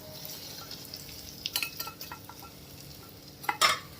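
Fried cashews are stirred into bread halwa in a pan, with soft sticky scraping and spoon clinks and two sharper metallic scrapes near the end, all heard close up with no talking.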